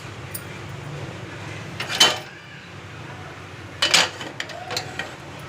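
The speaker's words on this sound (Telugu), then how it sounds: "స్టవ్ మీద కుక్కర్ పెట్టుకున్నాం." A pressure cooker is set down on a kitchen stove while cooking chintachiguru chutney, giving two metallic clanks a couple of seconds apart over a quiet room hum.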